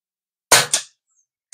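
A budget PCP air rifle fires one shot: a short, sharp, fairly quiet crack followed almost at once by a second brief snap, then silence.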